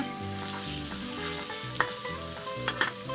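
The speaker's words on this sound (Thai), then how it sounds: "ผัดทุกอย่างรวมกันนะคะ" Close, busy sizzling as ingredients for a homemade tofu dish with garlic are stir-fried together in a hot pan, with a spatula scraping and tapping the pan in quick, uneven strokes.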